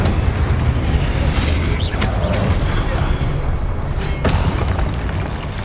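An Incendio fire spell goes off in Hogwarts Legacy during a fight against statues, part of a loud, continuous rush of booming spell impacts and roaring combat noise with little break.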